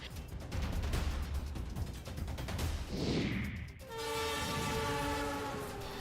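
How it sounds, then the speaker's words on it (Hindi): A train runs through a new rail tunnel between Jamalpur and Ratanpur stations on the Malda division at 120 km/h, a loud, steady rush and rumble with a passing swell, then a sustained horn blast near the end. "नई रेल सुरंग से 120 किलोमीटर प्रति घंटे की रफ्तार वाली ट्रेन चलाने का सफल ट्रायल किया गया"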